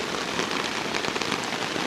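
Steady rain drums on a hammock camp tarp during a storm, a dense close patter with no talk over it.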